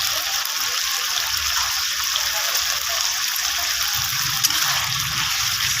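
Water pours steadily into a kadai (wok-style cooking pan) while chicken curry is being made with turmeric, a continuous close gushing splash from start to finish.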